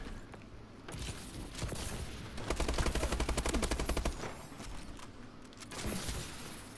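Rapid video game gunfire, a sustained burst of fast automatic shots rattling loudly in the middle, with scattered single shots and mechanical clicks before and after.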